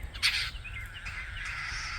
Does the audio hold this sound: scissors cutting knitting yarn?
no